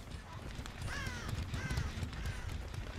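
Crows caw in the Dead by Daylight video game: a few faint, rasping calls at moderate distance, rising over a steady noisy game background with scattered clicks and rustles.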